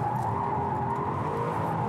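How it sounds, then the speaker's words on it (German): An Audi RS6 drifts sideways with its tires skidding, a loud continuous squeal over steady engine roar, close and unbroken throughout. "Mit dem Ding kann man auch super quer fahren und ab geht's"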